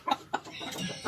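A brooding Rhode Island Red hen in a breeding cage on a small backyard poultry farm gives a few close, short clucks in quick bursts, with soft rustling between them.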